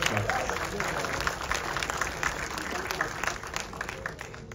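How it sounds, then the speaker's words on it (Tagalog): A theater audience applauds a film's writer and director at a screening at Sinag Maila in Manila, dense steady clapping filling the room, with a voice faintly talking beneath. "a big round of applause for our writer and director, Ms. Joanne Lopez"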